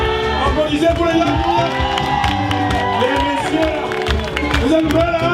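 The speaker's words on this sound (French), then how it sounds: "Applaudissez pour les dames." Concert audience at Divan du monde in Paris cheering, whooping and clapping loudly and continuously for the performance, the crowd noise blending with music throughout.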